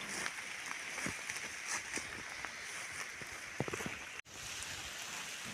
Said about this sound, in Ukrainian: Падає дощ